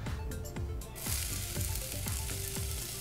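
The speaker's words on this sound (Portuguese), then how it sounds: "fritar no início de tudo a cebola e o alho" Onion and garlic frying in oil in a hot pan, a steady crackling sizzle with repeated stirring knocks of a utensil against the pan, close and without talk.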